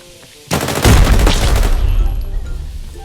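Gunfire erupts in the shooter game Arena Breakout after a half-second of quiet. A loud, close burst of rapid shots rolls into a sustained, booming barrage that slowly tapers off.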